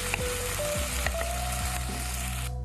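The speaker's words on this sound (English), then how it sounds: "So keep frying." Thinly chopped onions frying over a high flame in a pan, a dense continuous sizzle with scattered pops and crackles, close and steady, with occasional stirring sounds and no talk.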